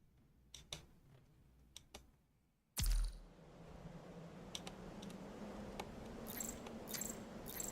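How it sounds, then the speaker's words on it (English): Loud computer keyboard typing in a quiet room, a few sharp isolated key clicks at first, then a heavy thump followed by scattered clacks over a steady faint hiss. "I'm pretty sure you hear my keyboard"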